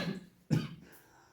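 A single sharp cough bursts out near the middle, briefly louder than the quiet room hum around it, then fades.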